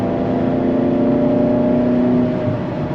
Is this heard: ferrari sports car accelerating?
yes